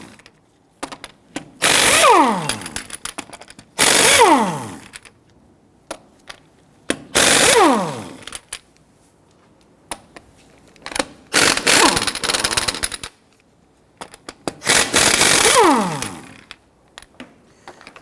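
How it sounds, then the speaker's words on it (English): Wheel lug nuts are loosened and taken off with a 19mm socket on a 2006-2010 Hummer H3 3.7L, with five loud, close bursts of a whirring power tool separated by near silence. "loosen and remove these nuts."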